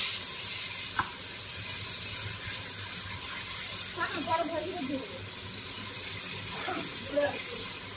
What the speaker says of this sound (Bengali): এবার তেলের মধ্যে লাগছে আমাদের মশলাটা